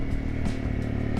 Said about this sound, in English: I'm sure you can hear it, but the exhaust system on this bike is definitely not stock.